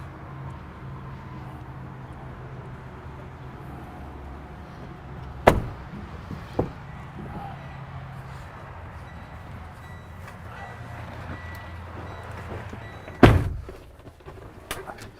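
Someone climbs into the cab of a Freightliner M2 106 hauler truck, giving a few sharp knocks and thumps and a final loud door slam, over a low engine idle and a quiet interior.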